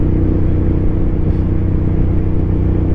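A motorcycle engine idles or runs steadily nearby in cold weather, a loud, even low rumble with constant throbbing harmonics and no variation in pace, with no voices over it.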